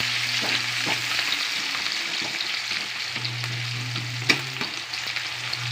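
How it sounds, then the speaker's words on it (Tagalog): Garlic and onion sauté in hot oil, giving a constant close sizzle with occasional spoon scrapes and a brief clink near the end and no voices. "Next natin ilagay yung ating bawang. Yan, gisa-gisa lang natin."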